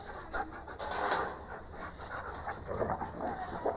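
Dogs panting close by in quick, rhythmic breaths with a few small whimpers and light movement, no speech over it.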